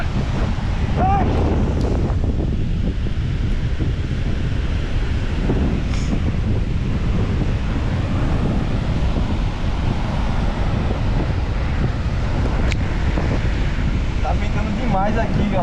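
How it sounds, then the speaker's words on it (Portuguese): Strong wind gusts across a sandy beach near a campfire, a continuous loud roar buffeting the microphone with surf-like rumble and brief faint voices underneath. "Demais aqui, galera. Ventando muito mesmo."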